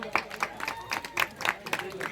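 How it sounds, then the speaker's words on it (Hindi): An audience claps at an Odia kirtan gathering in an even, rhythmic beat of bursts roughly four times a second, moderately loud, with voices mixed in underneath. "जोरदार करताली देमा"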